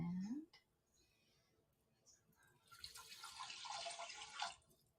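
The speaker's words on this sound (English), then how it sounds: "And now we're going to add in our water." Water pours into a pot for Cuban beans and rice in a home kitchen, a short steady splash rising after a quiet pause and then stopping.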